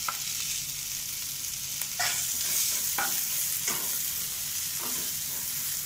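Onion masala for bhindi do pyaza fries in a pan, giving a steady close sizzle broken by several brief scraping stirs of a spoon; no voices.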